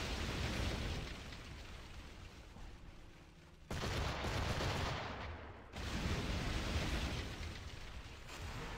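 Naval ship cannon volleys in Assassin's Creed IV: Black Flag during a sea battle against a Man of War, heavy sustained booming fire that drops briefly then returns loud and dense, with no talking.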